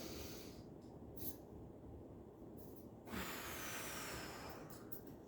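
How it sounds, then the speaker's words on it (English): A person working a chest expander breathes out hard in a few long, breathy hisses, close and fairly quiet, with short pauses between the exhales. "And then I'll exhale on the extension."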